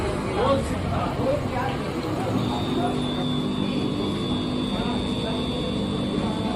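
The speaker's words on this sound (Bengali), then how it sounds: "তারপর আমরা এটাতে লাইন দিয়ে দেখবো মোটর ঠিক আছে কি না" A submersible pump motor runs on a test connection with a steady, fairly loud hum and whine that continues throughout, with voices murmuring in the background.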